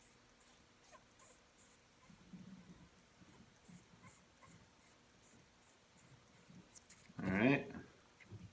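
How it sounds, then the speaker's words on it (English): Fine 2000 grit sandpaper rubs on a ferrule in a series of short, soft, quick scratchy strokes close by, with a louder brushing swipe near the end. "So again, I'll go back to my 2000 grit sandpaper."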